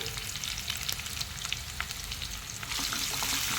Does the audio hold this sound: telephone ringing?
no